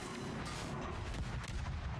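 Naval cannon fire in the World of Warships naval combat game, a dense continuous barrage of booming artillery shots rumbling without pause, loud and close with no talking over it.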